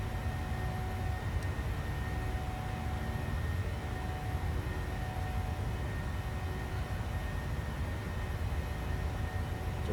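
Twin engines of a PMDG 737 at climb thrust in Microsoft Flight Simulator 2020, flying through a snowstorm: a steady low roar with a faint whining hum on top, constant and unbroken with no talking.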